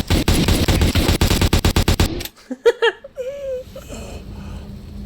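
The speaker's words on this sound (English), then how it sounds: "So you walk away and notice a gunshot." Rapid bursts of video-game gunfire from Metal Gear Solid V: a fast train of sharp, loud shots for about two seconds, then a sudden stop followed by brief whimpering and a strained vocal cry.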